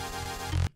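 A slowed, stretched musical sample with sustained, smeared tones and a low droning bass, cutting off abruptly near the end.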